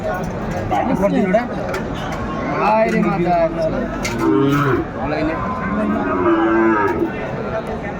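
Sahiwal-breed cattle and bull calves moo at a busy cattle market in Aftabganj, with several drawn-out lowing calls close by amid constant crowd chatter and people talking.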